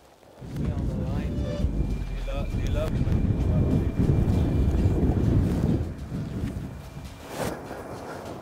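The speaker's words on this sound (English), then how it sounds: "As you can tell, it's crazy windy down here." Strong gusts buffet the microphone with a heavy, roaring rumble on a caribou hunt, while a motor hums beneath and a voice speaks over it.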